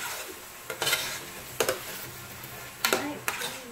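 Chicken biryani stirred in a cooking pot, a spoon scraping and clinking against the metal in four short bursts separated by pauses, moderately close, with no talk.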